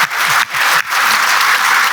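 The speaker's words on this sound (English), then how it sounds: "How about a little round of applause for our" Loud, close applause for panelists at a supply chain technology conference panel, dense steady clapping with a couple of brief dips, no talking.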